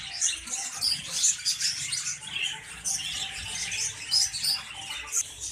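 Plum-headed parakeets kept in a small cage chirp and tweet in quick, bright bursts, several birds calling close by in an uneven chatter without any voices.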